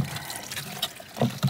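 Water trickles and splashes into a cattle water tank nearby, soft uneven gurgling with a couple of louder sloshing bursts near the end.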